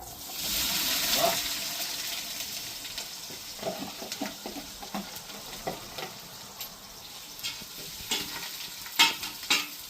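Onion and carrot fry with pork cracklings in a pan, giving a loud burst of sizzling as they go in, then steady crackle and spatter with scattered stirring knocks.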